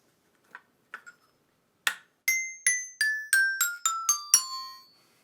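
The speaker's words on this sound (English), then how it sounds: "my favorite instrument of all, which is this little toy xylophone" A few tentative taps, then a descending run of bright metallic toy xylophone notes, each ringing briefly, close and clear.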